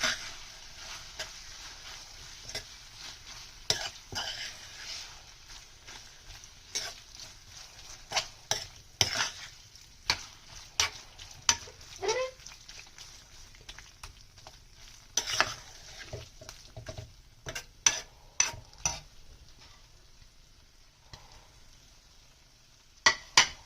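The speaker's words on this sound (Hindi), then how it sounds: "उसके बाद हम इसको मसालों में अच्छे से मिक्स करेंगे।" A spatula stirs chopped boiled eggs into spices in a pan for Sindhi egg bhurji. Irregular scraping clicks and taps stand out over a faint, quiet sizzle, alone without talk.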